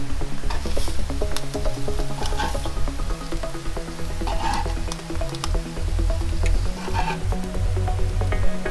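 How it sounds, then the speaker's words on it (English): Shrimp searing in a hot pan, a steady loud sizzle with crackling spatters and occasional stirring clinks running throughout, no voices. "you wanna make sure you get a nice good sear on the shrimp"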